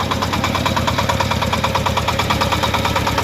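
A Shifeng 244 single-cylinder, belt-driven tractor engine runs at idle, thumping close and loud with a fast, even knocking rhythm and steady vibration, with no talk.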